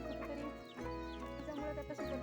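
Free-range country hens, one with chicks, clucking nearby in a village yard, a run of repeated, agitated clucks and short calls over a steady low background hum.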